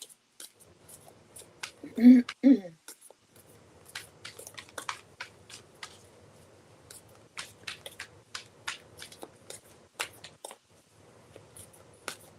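Tarot cards are shuffled close by in a quiet room, producing a run of light crisp flicks and riffling taps in irregular rhythm, with a brief voice near the start.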